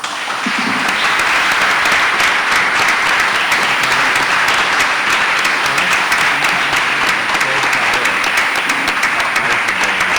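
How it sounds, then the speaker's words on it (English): Loud, continuous applause from a crowd at a Portland mayoral forum in the Maine Irish Heritage Center, thanking the candidates, a thick even wash of clapping that holds for the full stretch. "Let's give the candidates a round of applause"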